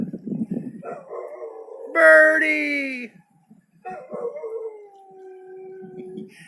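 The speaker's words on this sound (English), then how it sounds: "There's my dog." A dog in an open field barks, then lets out long rising and falling howls, near and loud, with a person calling out briefly at the start.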